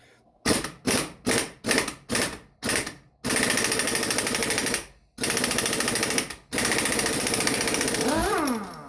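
Air impact wrench removing a badly damaged nut on a Honda CR500 engine, loud and close: five short rattling bursts, then long sustained hammering runs broken by brief pauses.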